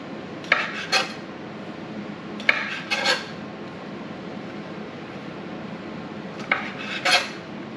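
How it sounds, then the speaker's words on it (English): A knife cuts sausage on a board in three separate bursts of two or three quick, sharp scraping taps, with quiet gaps in between and no talking. "Okay, sausage is cut."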